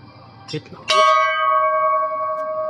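A bell at Goshen in Bamban, Tarlac, is struck once, close and loud, and its clear tone rings on and slowly fades. Faint voices are heard just before the strike.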